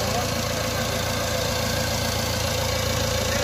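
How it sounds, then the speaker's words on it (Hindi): A Mahindra Getaway pickup's engine idles after an overhaul, a loud, steady, even rumble heard up close with a faint knocking rhythm. "गड्डी स्टार्ट हो गई है। आवाज़ चेक करो दोस्तों"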